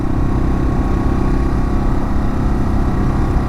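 Loud, steady engine drone with a rough low rumble, held at a constant pitch without clear rises, close by.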